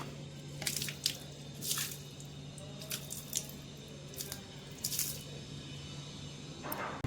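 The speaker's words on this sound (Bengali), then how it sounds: "এবার ব্যালকনিটা পুরো ধুয়ে দেবো" Water sloshes and splashes across a balcony floor as it is washed, in short wet bursts and drips at an irregular pace, with no one talking.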